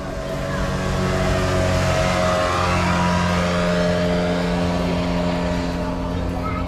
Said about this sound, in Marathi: ही स्पीड बोट आली आता